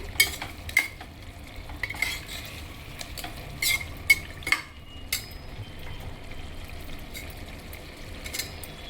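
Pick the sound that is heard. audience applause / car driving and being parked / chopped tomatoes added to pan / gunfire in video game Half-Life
chopped tomatoes added to pan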